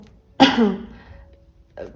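A single sharp cough bursts out close by, trailing off, followed by a shorter second cough a moment later.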